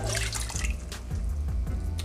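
Water from a tomato sauce can poured into a pot of marinara sauce, a close, continuous liquid splash and trickle with small drips, no talking.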